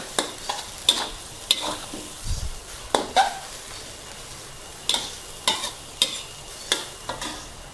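Sweet leaf (pak wan) stir-fried with egg in a pan, a soft sizzle under repeated sharp scrapes and clacks of a spatula against the pan, close by with uneven pauses and no talking.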